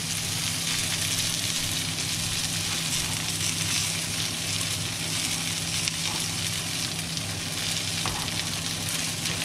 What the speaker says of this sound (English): And then you just kind of sizzle it around, saute it like that.